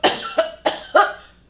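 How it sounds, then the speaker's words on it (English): Four sharp coughs come close and loud in an even rhythm, each a short burst followed by a brief pause, with nothing else heard between them. "Coughing and deep breathing."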